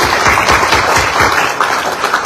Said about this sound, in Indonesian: Jadi silakan tepuk tangan dulu ya.